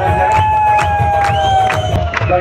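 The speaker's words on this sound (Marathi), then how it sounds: "सर्वांनी टाळ्या" A crowd at a prize distribution ceremony cheers loudly, with whoops and shouts rising over a dense, continuous roar of voices, close and energetic throughout.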